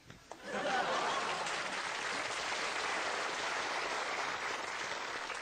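An audience at a recorded cabaret show bursts into applause after a couple of faint opening taps, the clapping swelling quickly and holding as a dense, steady wash for several seconds.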